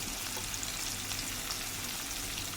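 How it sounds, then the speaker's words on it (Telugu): Onions frying together with chopped ivy gourd (dondakaya) in a pan give a steady, dense sizzle that holds evenly throughout, close and fairly loud with no voices. "ఆనియన్స్ అనేది ఎక్కువ ఫ్రై అవ్వాల్సిన అవసరం లేదండి, ఎందుకంటే మనకి దొండకాయలు అనేది ఫ్రై అవుతాయి"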